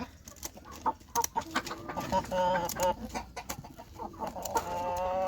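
A Kerboyun hen clucks close by while being held, with several short bursts of clucking and squawking over farmyard noise.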